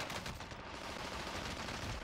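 Gunfire in the Warzone video game: a dense, continuous burst of rapid shots fills the whole stretch, loud and close with no pauses.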